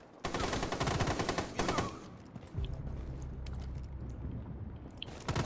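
A designated marksman rifle fires in Rainbow Six Siege, loud sharp reports in quick bursts over the first two seconds, then a lower rumbling tail with scattered ticks and impacts.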